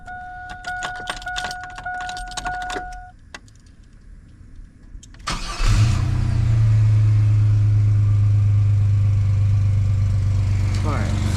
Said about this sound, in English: so we're gonna go ahead, start the truck